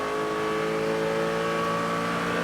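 A race car engine accelerates hard on a wet track, a loud steady drone with clear tonal harmonics sustained throughout and no talk.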